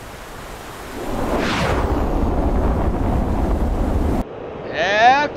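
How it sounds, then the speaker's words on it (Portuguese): Heavy rain over water as an F-15E flies low at about 100 feet in DCS World, a loud steady wash of rushing noise with a brief whooshing swell and a chirping electronic tone near the end. "E tá chovendo forte."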